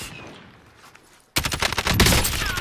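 Video game gunfire with sniper shots erupts suddenly after a quiet stretch, a loud, dense burst of repeated cracks and rapid fire continuing to the end.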